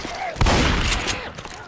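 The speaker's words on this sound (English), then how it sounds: "Shotgun." A shotgun firing in the video game Left 4 Dead 2, a loud booming blast with a dense, chaotic game soundscape around it, heard in a short burst.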